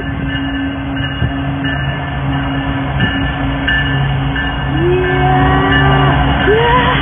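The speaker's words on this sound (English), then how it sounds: "The train's going!" A CPKC train rumbles past with steady rolling noise and a long, sustained horn blast that wavers in pitch, loud and close.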